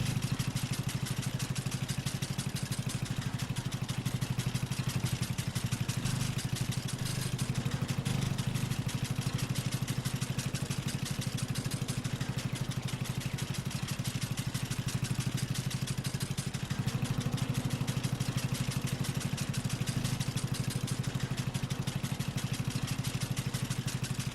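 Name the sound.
tractor engine humming in video game Farming Simulator 22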